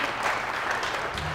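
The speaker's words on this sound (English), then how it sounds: "Give yourselves a round of applause." An audience at a graduation celebration claps in a dense, even burst of applause, steady and fairly loud throughout.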